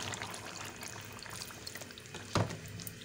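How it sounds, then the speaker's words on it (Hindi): A cup of water is poured into a simmering potato and green bean curry in a pot, giving a faint, soft liquid splash and sizzle, with one brief louder splash near the end. "1 कप पानी ऐड करेंगे इसमें"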